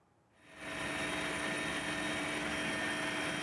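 Karakal military helicopter hovering during a search-and-rescue evacuation of a crashed pilot, its rotor and turbine noise swelling in after a brief quiet start into a steady, loud, droning roar with no talk.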